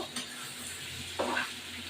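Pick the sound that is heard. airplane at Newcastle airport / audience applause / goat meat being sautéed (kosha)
goat meat being sautéed (kosha)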